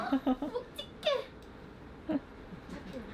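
A cat at a veterinary clinic gives several short, fairly close meows in quick succession, and a few more follow after a pause over a quiet room.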